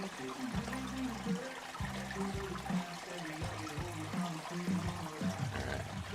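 Water flows and splashes steadily through a gold prospecting sluice, a continuous close trickling rush with uneven gurgles and no voices.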